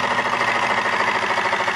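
A homemade alcohol-burning engine built from cans and DVDs runs steadily, a fast even chugging hum with a rhythmic pulse, close and loud, no voices.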